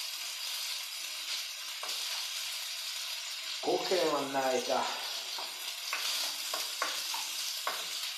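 Potato wedges fry and sizzle in a pan with a steady hiss, punctuated by a louder burst of bubbling and several sharp clicks of stirring; a voice speaks briefly over the cooking.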